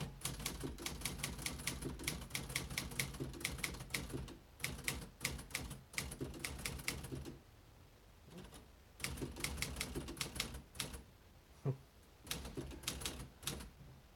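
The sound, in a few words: typing on a 1958 Remington Quiet-Riter typewriter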